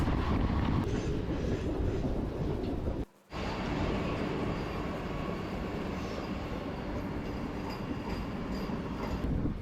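A passenger train on the Bhimavaram to Nagarsol line rumbles steadily along the tracks, a loud continuous roar with a brief dropout partway through before the rolling noise resumes.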